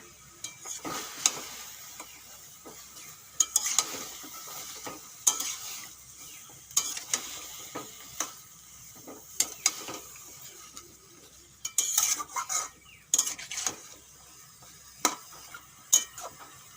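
Pumpkin greens fry in mustard oil in a pan, giving a steady close sizzle broken by regular scraping stirs of the spatula every second or two, with no talk.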